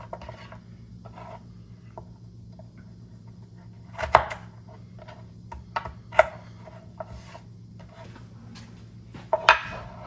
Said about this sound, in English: And then you cut them lengthwise, and then just pop those.